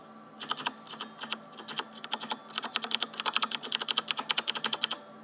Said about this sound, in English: let's hear the keyboard really quick